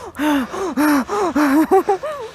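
Heavy, labored breathing in rapid rhythmic gasps, close and loud, from someone climbing uphill in Shimla while wearing a face mask, each breath strained and audible with no talking.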